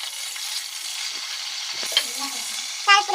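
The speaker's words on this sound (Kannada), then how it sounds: "ಹಸಿಮೆಣಸಿನಕಾಯಿನ ಹಾಕೊಂಡು ಸ್ವಲ್ಪ ಫ್ರೈ ಮಾಡೋಣ." Green chillies, cinnamon, cloves, bay leaf and cardamom frying in hot oil in a cooker: a continuous close sizzle with brief scraping stirs and a light clink near the end.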